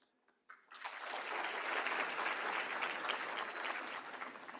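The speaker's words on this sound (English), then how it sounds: "Thank you so much for this energetic welcome and for this applauding great applause." An audience at a college festival welcome event at IGI, Pune breaks into loud, sustained applause that starts after a brief quiet moment and holds steady as a dense wash of clapping hands.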